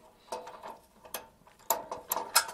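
A hand ratchet works on bolts during car restoration disassembly, giving several short bursts of clicking spread unevenly over a couple of seconds, close and moderately loud with quiet gaps between them.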